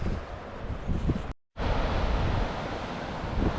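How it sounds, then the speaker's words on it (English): Large waves crash onto Elephant Rock beach in Scotland under strong wind, a loud continuous roar of surf and buffeting wind noise with one brief dropout partway through. "The size of these waves ripping into the Elephant Rock beach today is just crazy."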